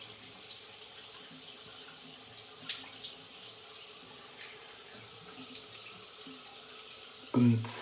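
A bathroom tap runs as a face is rinsed after a wet shave with a Wade & Butcher razor. The water keeps a faint, steady flow, and a louder splash or clunk comes at the end.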